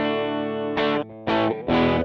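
A distorted electric guitar plays through a Nux MG-300 on its tweed amp model with a 4x10 cabinet; one sustained chord is followed by three short, punchy chord stabs, loud and close, with no voice.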